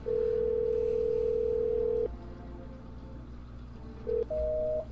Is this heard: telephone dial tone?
yes